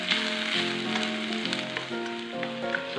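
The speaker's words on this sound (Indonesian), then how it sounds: "Kita masukkan bawang putih dan bawang bombay. Kita tumis hingga harum ya," Garlic and onion sautéing in a pan as the base for sweet-and-sour crab, giving a steady, close sizzle that runs without pause for the whole stretch.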